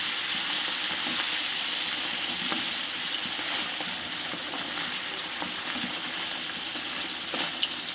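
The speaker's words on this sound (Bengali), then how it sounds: "তেলটা গরম হয়ে গেছে। এবার আমি মাছগুলোকে একটা একটা করে দিয়ে দেব।" Pabda fish frying in hot oil, a steady bright sizzle that holds for several seconds with faint crackles and a light clink near the end.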